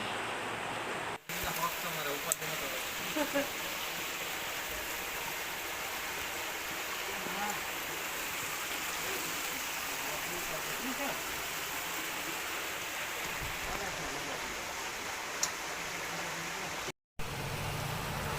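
Steady rushing flood water from heavy rain in Porbandar, Gujarat, flows continuously, a broad dense wash of sound with faint voices somewhere in the background.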